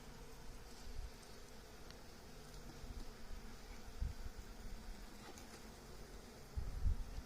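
Honeybees buzzing around an open beehive while candy boards are put in, a faint, steady hum of many insects with occasional closer passes and light rustling, no talking.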